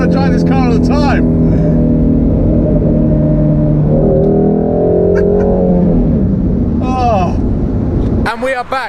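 A sports car engine revs loudly and continuously to just over 8,000 RPM, a steady droning roar rising and falling, with a voice briefly exclaiming over it near the end.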